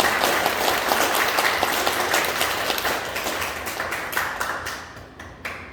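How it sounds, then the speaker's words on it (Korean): A church congregation claps together in a dense, loud burst of applause that fills the room, then thins and fades toward the end. "노아 할아버지 위해서 박수 한번 칩시다."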